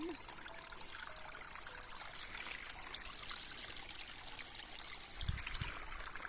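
Water that has been let out trickles steadily beside a blue-marked mountain trail to Magura Stuposiańska, a soft, continuous outdoor dribble that stays fairly faint throughout.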